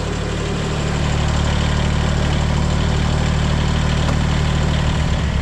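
A Kubota BX compact tractor engine idles steadily outdoors while warming up, with a low, even rumble and faint mechanical rattle, close by and unchanging throughout.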